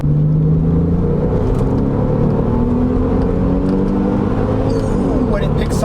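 A Porsche 996 Carrera 4S on its first drive after two years in a garage, heard from inside as a loud, steady low engine drone with slight rises in pitch, and a voice faintly present.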